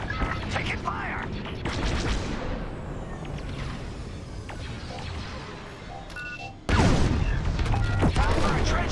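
Starfighter blaster fire and impacts in the space combat game Star Wars: Squadrons, bursts of rapid shots and crashes over engine roar, with a louder surge of fire late in the clip.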